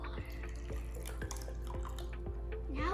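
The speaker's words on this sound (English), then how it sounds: "Now we'll add the water." Water is added to a cake mix with the butter and eggs in a kitchen, producing a short run of close, light drips and trickles over a low steady background hum.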